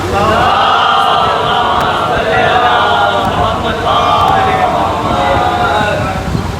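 A large gathering at a Ghadeer celebration in an imambargah in Dosipura, Banaras roars a religious slogan in unison, a loud sustained wall of massed voices with no break.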